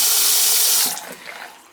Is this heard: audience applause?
no